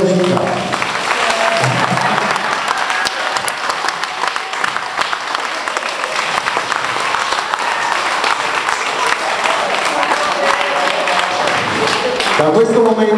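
Loud, sustained audience applause welcoming the town mayor at a wedding ceremony in Nettuno, a dense continuous roar of clapping close by that holds steady from start to finish.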